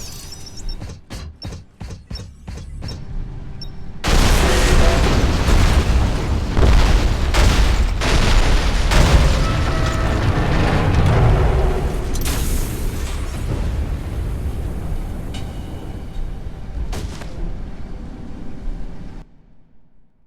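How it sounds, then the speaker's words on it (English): A pumping station blows up in the PC shooter Alien Rage: after a few sharp mechanical clicks, a huge booming explosion erupts and rumbles on with debris and crackling for many seconds before cutting off. "Since you blew up the pumping station corridors"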